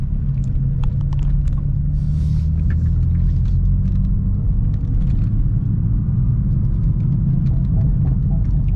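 BMW M4 engine rumbling steadily while driving, a deep continuous low drone loud and close throughout, with faint road and cabin noise over it and no talking.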